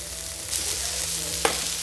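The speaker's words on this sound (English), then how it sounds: "we want to get the chorizo nice and golden and preferably a bit crispy. So I'm gonna toss those straight in." Chorizo fries in a pan for carbonara, a close, steady sizzle with one brief clatter near the end.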